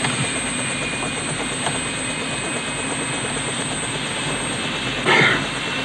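A helicopter's steady, loud engine and rotor roar holds constant throughout, with no talking over it.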